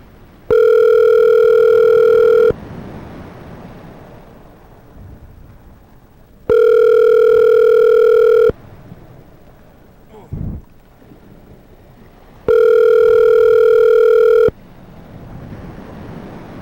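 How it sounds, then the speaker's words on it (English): Telephone ringing through a computer program, three long electronic ring bursts about two seconds each, separated by pauses of low background noise with a brief click between. "Freddy's not going to answer the phone."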